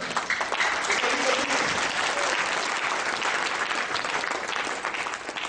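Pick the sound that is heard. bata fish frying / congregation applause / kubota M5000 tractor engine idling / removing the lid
congregation applause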